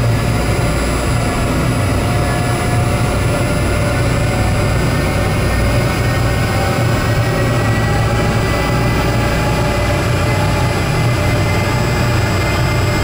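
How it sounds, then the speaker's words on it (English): A loud, steady car engine roar at high revs during an emissions test, with a deep low rumble and sustained high whine, continuous throughout without any speech. "That noise you hear in the background is my car trying to get to that many revs"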